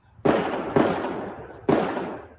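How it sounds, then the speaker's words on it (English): Rifle gunfire during a police shootout at a downtown bank in Louisville, three loud sharp reports with long echoing tails, the first two close together and the third after a short pause. "police immediately began to exchange gunfire"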